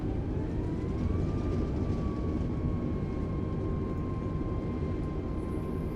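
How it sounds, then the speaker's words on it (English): An A320neo in a flight simulator rolls out after landing with thrust reversers engaged, a loud sustained jet roar holding steady with a whining tone that rises briefly and then levels off. "Nose down, and reversers on."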